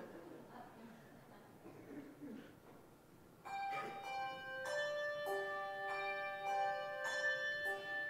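Church bells are tried out after a quiet, murmuring stretch, ringing as several clear, overlapping strikes that keep sounding, moderately loud and reverberant, with faint voices underneath.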